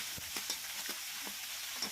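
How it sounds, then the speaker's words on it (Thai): Quiet sizzling of pounded spices stir-frying in a little oil in a pan, with a spatula stirring and scraping in soft, irregular strokes. "ผัดให้หอมเลยค่ะ"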